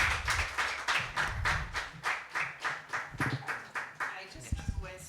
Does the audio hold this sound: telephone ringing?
no